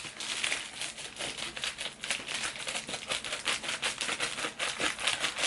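Album packaging is cut and torn open, giving close, continuous crinkling and scratchy plastic rustles in a rapid, uneven rhythm, with no talk.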